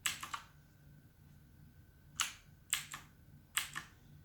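Clicking keys on a Blackweb mechanical gaming keyboard, with a quick cluster of sharp clacks at the start followed by three separate pairs of crisp, close keystrokes at an even pace, over a faint steady background hum.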